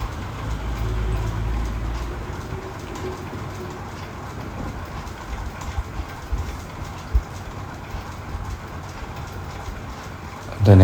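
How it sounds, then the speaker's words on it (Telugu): A small locomotive engine running alone without wagons passes on a forest railway between Burra Caves and Araku Valley, a steady low rumble with light rail clatter that holds for several seconds before fading. "మేము పెద్ద ట్రైన్ అనుకున్నాం, చూస్తే చిన్న ఒక ఇంజిన్ మట్టుకు వెళ్తూ ఉంది"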